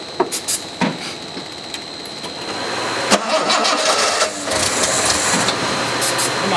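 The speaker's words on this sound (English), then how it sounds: "I really would like to hear this engine." A Jaguar E-type engine cranks with a few sharp starter bursts, then struggles and builds toward running, heard fairly close with a mechanical whirring chatter.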